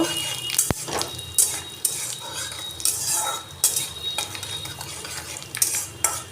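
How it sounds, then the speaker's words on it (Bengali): A spice tempering of panch phoron, kasuri methi and asafoetida frying in a little oil, with repeated metal spoon scrapes and clinks against the pan over a light sizzle, close and rhythmic, with no one talking. "কাসৌরি মেথি দিয়ে দিলাম হিং দিয়ে দিলাম ফোড়নটা আমি ভালো করে ভেজে নেব"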